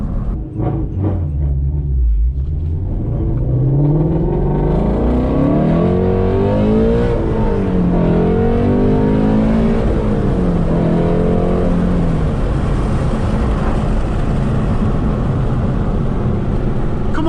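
A Ford Shelby GT350's loud, aggressive engine roars and climbs through rising and falling revs while driving, sustained and close, with a deep rumble underneath throughout.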